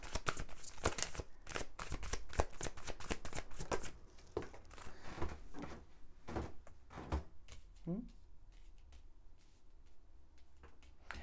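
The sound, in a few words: shuffling tarot cards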